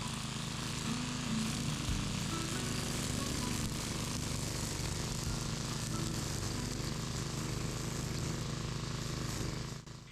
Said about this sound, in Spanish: después de usar ese pequeño cortador de maleza durante las últimas 3 horas